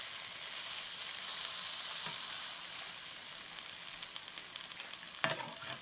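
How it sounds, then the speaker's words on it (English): A Reuben sandwich fries in a pan, giving a steady, close hiss and sizzle, with a soft thump and a brief louder sizzle as it is flipped near the end. "Now, I'm going to give this one a flip."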